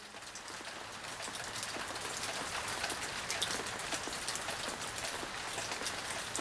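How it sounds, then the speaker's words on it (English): Steady rain showers fall throughout a hike on Sardinia's Mining Trail, a dense, continuous patter of drops hitting surfaces close by, with no voices present. "Showers came and went throughout the day."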